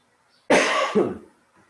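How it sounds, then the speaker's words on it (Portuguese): A single throat clearing from a teacher during an online class, a short harsh burst followed by a second softer rasp, close and alone. "um pigarrozinho aqui na garganta."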